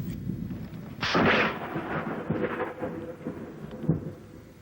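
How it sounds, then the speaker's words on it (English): Thunder from a lightning strike bursts loudly as a sharp crack, then rolls into a rumbling decay, with steady rain-like noise underneath throughout. "At Fritch, a man was struck by lightning."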